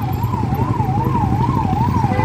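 A loud wailing ambulance siren sweeps steadily up and down over rumbling, heavy road traffic near Hoskote on the Bangalore airport road, close by and continuous throughout.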